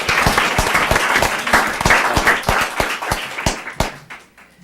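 People at a school committee meeting give a round of applause, a few distinct hand claps ringing out in a loose rhythm over a softer crowd clap, close and loud, thinning out toward the end.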